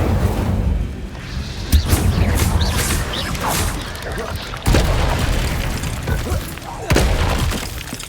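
Fiery spell bursts cast in the Hogwarts Legacy video game, several loud booming blasts at roughly one to two second intervals, mixed with combat noise and a voice calling out spell names.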